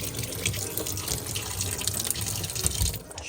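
A small pour of water runs from a tap into flour for feeding a sourdough starter, a steady trickling splash over low background noise, alone and close.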